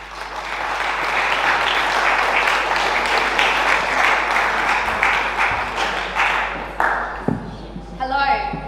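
An audience at the Freedom Summit applauds to welcome Claudine Jane of Warrior at Law, a steady wash of many hands clapping from a sizable crowd that swells, holds, then tapers off at the end.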